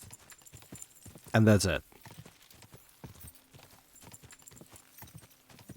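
A horse's hooves clip-clop in a medieval-style video game, a steady run of light, evenly spaced footfalls beneath a voice, with a short louder burst partway through.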